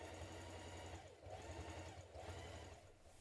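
Sewing machine top stitching a backpack panel, a continuous fast mechanical whir with brief slowdowns, faint and close, no voices.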